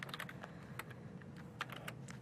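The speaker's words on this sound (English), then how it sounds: "Typing in Helen, and then I'm going to type in" Fingers type on a computer keyboard: a quick, uneven run of close keystrokes with crisp clicks and a few louder taps, heard alone with no voices.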